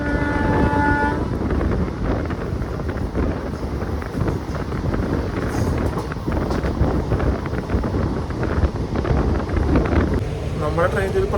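The Nagercoil–Kottayam Express pulls out of Thiruvananthapuram North, a steady loud rumble and clatter of rolling carriages with heavy wind buffeting the microphone, a brief horn-like tone at the start and near the end, and a voice talking underneath.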